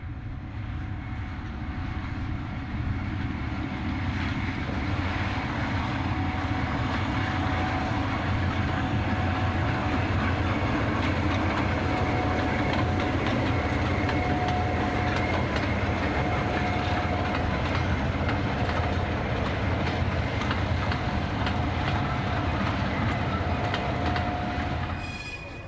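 A Class 08 and a Ruston shunter locomotive run together along a heritage railway, a steady low engine rumble and rolling wheel noise lasting throughout, with faint squeals and rhythmic clicks from the track.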